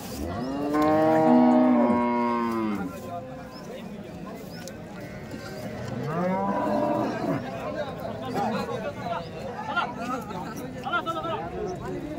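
Cows at a farmers' cattle market in Chalisgaon give two long, drawn-out moos, one near and one a few seconds later, over a steady murmur of background chatter and market noise.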